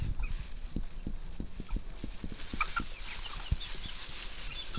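Golden penciled Hamburg chickens clucking and calling in short bursts around a farmyard, with a steady background hum and scattered thumps and rustling nearby.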